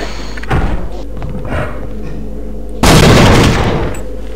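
An enemy blows himself up in Half-Life: Opposing Force. A heavy, loud explosion bursts in late and rumbles for about a second, following a softer thump earlier, over a low steady hum.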